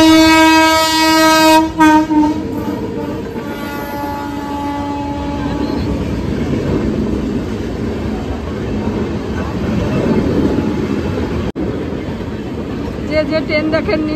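A passing train sounds a loud, long horn blast at close range, then the horn cuts off and heavy rumbling and clattering of the rail cars continue, with a few shorter horn notes near the end.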